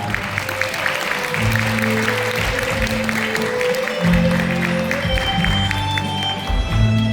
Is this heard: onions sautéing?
no